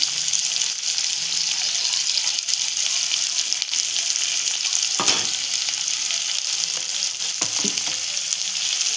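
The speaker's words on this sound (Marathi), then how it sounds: "आता आपण त्यात टाकणार कांदा जो आपण चिरून घेतलेला आहे" Chopped onion tossed into a hot pan for a field bean curry fries with a loud, continuous sizzle, broken by a couple of sharper stirring scrapes, close up with no speech.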